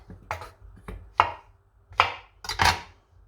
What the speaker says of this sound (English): Now we're gonna carry on with the lovely mushrooms. I will show you again. I just cut them in 4.